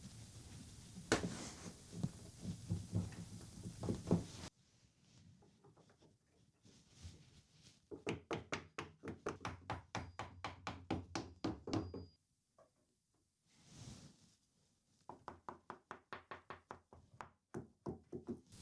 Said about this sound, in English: get them hammered into place